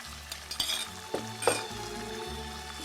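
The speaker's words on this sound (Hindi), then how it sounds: "जब तक चिकन फ्राई हो रहा है" Chicken pieces frying in a pan, a soft close sizzle with a few stirring clinks and scrapes, no voices.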